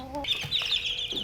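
Young Bangkok gamecock chicks of Burmese lineage, kept in a small home pen, give a brief string of thin, high peeping calls, close and fairly clear, with a soft low cluck underneath.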